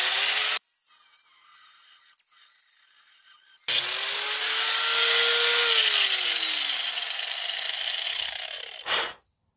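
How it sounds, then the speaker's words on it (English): Power tool cutting a quarter inch off a small metal arm during front differential work on a 2002 Toyota Tundra 4x4, a harsh grinding whine that starts, stops, then runs steadily with a slowly falling pitch. "we're going to cut a 1/4 inch off this little piece of metal here on this arm"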